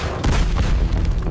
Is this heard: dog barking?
no